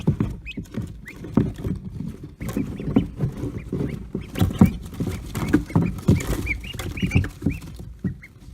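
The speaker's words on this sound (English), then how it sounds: "These guys are really hammering on the water." Ducklings being raised by hand splash and beat on water, a busy patter of irregular wet slaps and flutters up close, with faint peeps.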